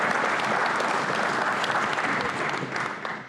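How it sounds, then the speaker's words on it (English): Warm round of audience applause for elected officials at a Christian school groundbreaking, dense steady clapping that thins and fades toward the end. "let's just give them a round of applause"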